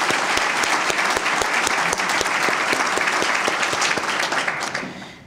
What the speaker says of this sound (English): May we have a round of applause for our wonderful trustees.